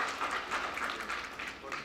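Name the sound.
symposium audience applauding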